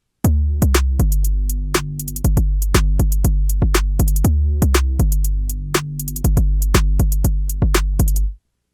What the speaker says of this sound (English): That is all for this 808 bass line from scratch using the Meld synthesizer